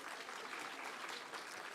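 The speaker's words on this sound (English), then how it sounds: "Can we have a huge round of applause from the audience" A summit audience gives a round of applause, the dense, even clapping of many people sounding moderately distant and filling the whole moment.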